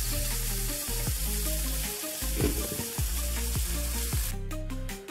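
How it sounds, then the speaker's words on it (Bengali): Eggplant chops frying in a pan of hot oil in a home kitchen, a steady loud sizzle running throughout with occasional soft bubbling pops and a few clinks near the end. "এসে এখানে বেগুন চপ করছি, পাশাপাশি এটাতে পোলাও রান্না করছি"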